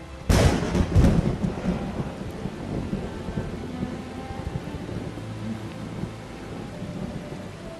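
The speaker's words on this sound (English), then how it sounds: "The first rain for 8 months." A loud thunderclap cracks and rolls away as the first rain after eight months of drought falls, with a steady wash of rain continuing under the fading rumble.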